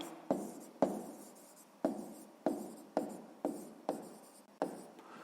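A pen writes by hand in a notebook during math work in Ukrainian, producing about nine separate scratchy strokes in an uneven rhythm, close and quiet, with no one talking.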